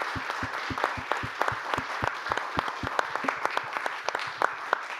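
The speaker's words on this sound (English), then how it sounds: "just a quick round of applause for the panelists and the authors" A small audience at an energy-network regulation event claps for the panelists and authors, the individual hand claps distinct and sparse, steady for about five seconds.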